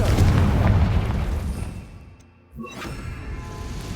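The Confringo fire spell in the game Hogwarts Legacy lands as a loud booming explosion with a rumbling burst. It fades over two seconds, and then a sharp whooshing pop follows. No one speaks.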